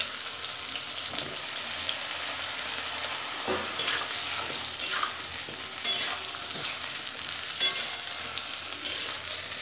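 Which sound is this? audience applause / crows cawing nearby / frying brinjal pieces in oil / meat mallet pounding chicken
frying brinjal pieces in oil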